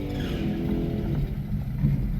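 Turbocharged Gen 3 5.3 car spinning its wheels on a drag strip launch, a loud dense engine roar at high revs, steady and close with no talk.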